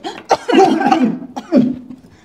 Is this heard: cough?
yes